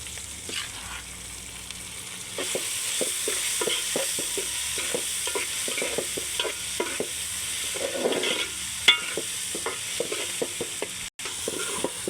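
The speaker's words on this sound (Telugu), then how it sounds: "పప్పు కూర మొత్తం వేసుకున్న తర్వాత మొత్తం కలిసేలాగా ఒక్కసారి ఇలా కలుపుకుందాం" Boiled spinach dal being stirred into a fried tempering in a pan, village-style bachali kura pappu, with repeated scraping spoon strokes and a soft steady sizzle, close and fairly loud, no voices.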